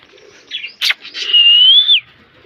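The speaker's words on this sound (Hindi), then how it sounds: "ये ग्रीन पैरेट बहुत प्यारा है, येलो ब्लू वाला" A green parrot with yellow and blue markings calls loudly at close range. A short harsh squawk and a burst are followed by a long, wavering, rising whistle.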